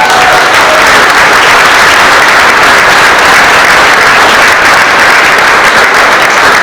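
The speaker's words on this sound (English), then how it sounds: "Please give a huge round of applause for Maria Espanosa." Loud, dense applause from a forum audience fills the room, with many hands clapping continuously and evenly from start to finish.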